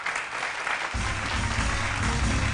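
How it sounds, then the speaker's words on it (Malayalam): A studio audience on a Malayalam TV show bursts into applause for actor Vinu Mohan, the clapping swelling sharply about a second in and then holding dense and loud to the end. "നല്ലൊരു ക്ലാപ്പ് കൊടുക്ക് വിനുവിന്"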